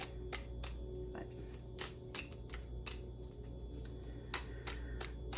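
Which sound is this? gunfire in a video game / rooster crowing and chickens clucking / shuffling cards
shuffling cards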